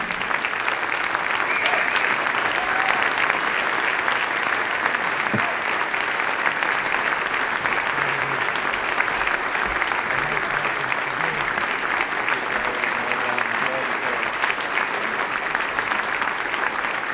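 A standing audience at a community service award ceremony gives the recipient a long, loud ovation, a thick sustained roar of clapping that holds steady throughout.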